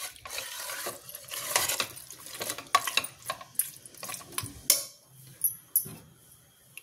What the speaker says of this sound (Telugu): చూడండి, ఈ ఆయిల్లో చికెన్ బాగా ఫ్రై అయింది కదా, ఒక 2 నిమిషాలు ఇలా అంతా ఒకసారి బాగా కలుపుకుందామండి.